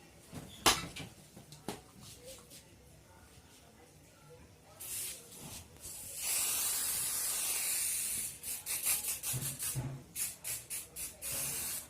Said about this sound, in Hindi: हम होल्ड स्प्रे करेंगे।